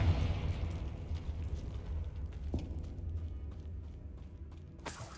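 A Confringo spell blast in Hogwarts Legacy: a loud explosive burst at the start that rumbles and fades, followed by a few sharp cracks and a bright pop near the end.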